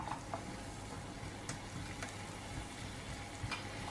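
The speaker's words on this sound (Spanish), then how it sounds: "El ajo y la cayena. Vamos a sofreírlo que se quede un poquito doradito" Garlic and cayenne fry in oil with a soft, even sizzle, quiet and continuous, with a few faint clicks of stirring.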